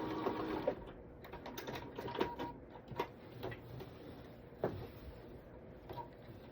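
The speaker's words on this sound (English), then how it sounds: "I have some quilting features on my embroidery machine, and I'm going to quilt the top with that" An embroidery machine quilts the top of a table runner, running with a fast mechanical whir and ticking stitch rhythm at moderate volume, steady and alone.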